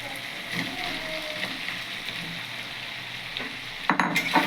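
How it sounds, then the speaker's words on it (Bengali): Soybeans being stirred with spices in a hot pan give a steady frying sizzle with scraping strokes throughout, and a louder clatter of stirring near the end. "সয়াবিনটা বেশ নাড়াচাড়া করে সুন্দর করে মেখে মশলাটা মিশিয়ে নিতে হবে"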